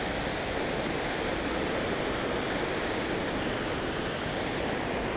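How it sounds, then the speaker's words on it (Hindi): Fast-flowing water rushes through a large canal at a river barrage on the Ravi River in Punjab, Pakistan, a steady, dense roar that stays loud and unbroken throughout. "ये बहुत बड़ी नहर है, देखें आप पानी की स्पीड।"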